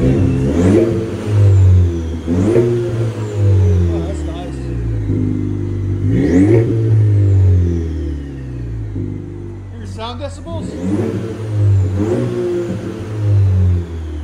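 A 2022 Chevy Silverado 2.7L turbo with a Flowmaster 40 exhaust revs repeatedly in deep, loud bursts, each climbing and falling back, with turbo whistle on top and people talking nearby.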